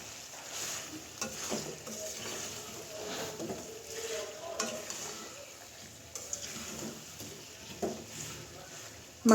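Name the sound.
beef and potatoes frying and being stirred in pan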